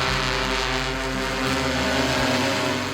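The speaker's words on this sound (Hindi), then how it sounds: "ड्रोन की उड़ान, खेतों की शान" Agricultural spraying drone in flight over farm fields, a loud steady multi-rotor buzz with layered propeller tones, close and continuous with slight pitch shifts.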